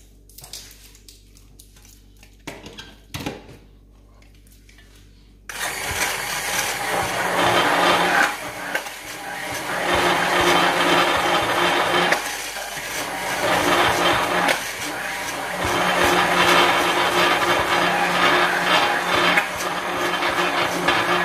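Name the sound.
hand mixer blending whitening lotion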